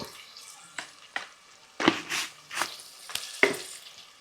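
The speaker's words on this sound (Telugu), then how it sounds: "మంచిగా ఆయిల్లో మగ్గాలన్నమాట ఆనియన్స్ అన్నీ" Onions fry in oil with a soft, close sizzle, broken by several sharp scraping stirs of a spoon against the pan.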